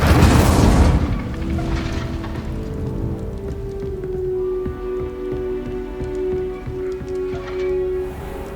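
In Hogwarts Legacy, the Incendio fire spell erupts in a short, loud, crackling burst at the very start, then dies away, leaving quieter game ambience with a sustained tone.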